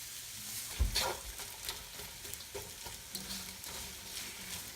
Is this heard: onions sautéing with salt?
yes